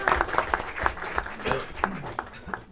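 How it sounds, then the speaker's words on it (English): Scattered clapping from a school board meeting audience honouring the principal, individual claps distinct and uneven over a low murmur, a voice briefly heard in the room. "And let's give him a round of applause also."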